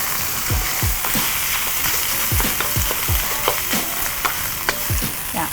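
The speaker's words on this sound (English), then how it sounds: "So now I'm going to go in with some onions." Onions fry in a wok for a beef noodle stir fry, a steady crackling sizzle broken by repeated scraping and clanking strokes of a utensil against the metal, close up and with no voices.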